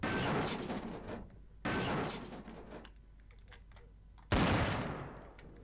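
Counter-Strike gunfire aimed at a PC side panel: three loud, sharp bursts spaced a couple of seconds apart, each trailing off into a decaying tail, with small clatters and impacts between them.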